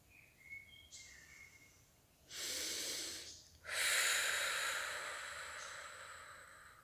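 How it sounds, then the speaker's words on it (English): Slow, deep breathing during a standing yoga exercise: one long inhale followed by a longer, fuller exhale, close and airy, after a few faint bird chirps in the background. "Breathe in and exhale, release."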